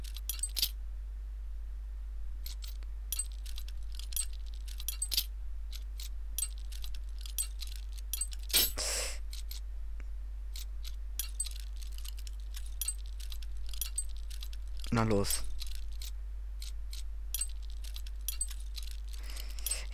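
Metal lockpicks click and scrape in short tinkling bursts while a lock is picked in the video game Oblivion, with a louder rattling jangle near the middle and another toward the end; a brief word is spoken.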